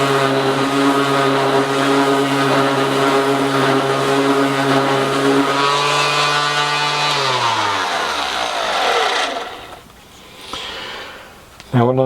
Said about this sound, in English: We can turn that up in the lathe.